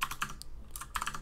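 Quick bursts of computer keyboard keystrokes from someone typing a terminal command, close and fairly quiet, tapping in a short uneven run with a brief pause partway through.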